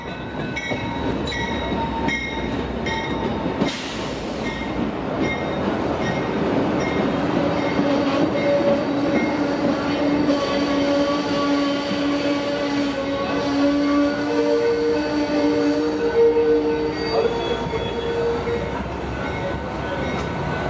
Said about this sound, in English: Amtrak 98 would arrive, with its P42DC number 37 in the lead.